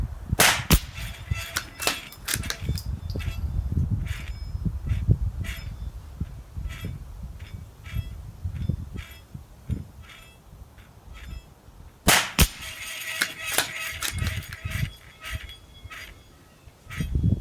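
Ruger .22LR rifle shots at an outdoor target range, sharp cracks at irregular intervals, some close and loud, with a burst of several rapid reports near the end over steady wind-like background noise.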